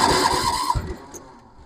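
An old Massey Ferguson 7 tractor engine, its carburetor freshly adjusted, catches in a brief close fluttering burst that quickly fades away.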